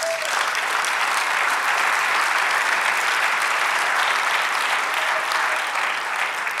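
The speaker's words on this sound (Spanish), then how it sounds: "Denle un aplauso al Señor." A church congregation applauds loudly and steadily at a Spanish-language sermon, a dense, unbroken wash of many hands clapping that holds for several seconds without pause.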